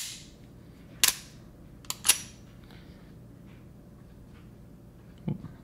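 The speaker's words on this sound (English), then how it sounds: "LCP2," A Ruger LCP II pistol fires several sharp, loud shots, two close together near the start and a softer one later, each followed by quiet.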